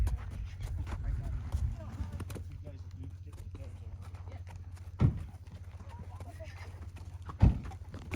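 Stallions run across the ground with scattered hoof clip-clops and two heavier, close thuds later on, over low background rumble while a voice talks.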